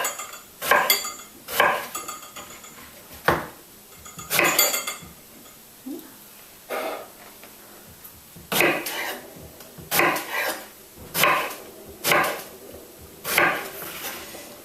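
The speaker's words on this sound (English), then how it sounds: "And again, chopping into centimetre cubes." A knife chops raw vegetables into centimetre cubes on a board for a raw ratatouille, landing in short bursts of sharp knocks and clatters, close and separated by brief pauses, with faint kitchen handling between.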